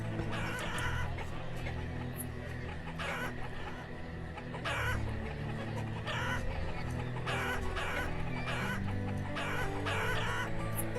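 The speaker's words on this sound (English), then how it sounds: "The chickens just make the same sound." Chickens cluck repeatedly in the village-building game Banished, short looping clucks and calls recurring every second or so over a steady background of low game ambience and music.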